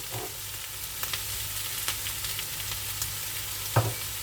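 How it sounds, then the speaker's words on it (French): Vegetables seasoned with pepper, sweet paprika and garlic salt frying in a pan, a steady soft sizzle broken by occasional sharper crackles and a few stirring scrapes, with no talking. "je laisse bien griller un petit peu tout ça"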